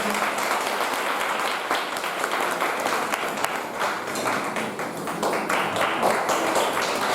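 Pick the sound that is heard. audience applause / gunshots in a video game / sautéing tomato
audience applause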